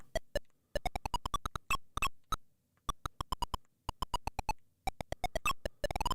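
Rapid electronic beeping tones from the NES-era action RPG Hydlide, sounding as loud bursts of short repeated beeps with brief pauses between groups, clear and alone with no talking.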